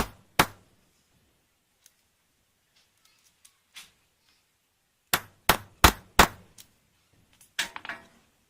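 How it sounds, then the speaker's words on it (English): A hammer strikes a metal snap onto a pair of pants: one sharp bang, a long quiet pause, then a quick cluster of five or six hard metallic blows, all loud and close. "smack it a couple times with a hammer"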